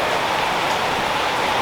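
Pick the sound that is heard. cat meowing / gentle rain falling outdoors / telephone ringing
gentle rain falling outdoors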